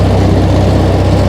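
A tractor engine runs steadily and loudly while cutting long grass, a constant low, heavy drone with no pauses or change in pitch.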